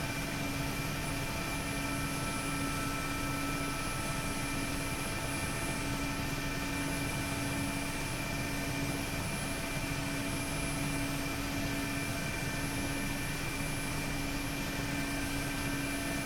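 A Mi-8MTV2 helicopter in flight in the DCS combat simulator, its constant rotor and turbine drone steady and loud with whining tonal hums, continuous with no pauses or talk.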